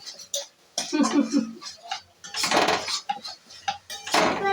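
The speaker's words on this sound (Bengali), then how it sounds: "এবারে একটু নেড়ে চেড়ে নেব মশলাটা।" A spoon clinks and scrapes against a cooking pot in short, uneven bursts as masala is stirred for a home-cooked dish, with a voice heard faintly at times.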